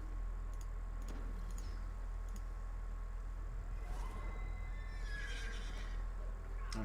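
A horse in a video game neighs with a bright, wavering whinny late in the passage, preceded by light ticking and clip-clop taps over a steady low game hum.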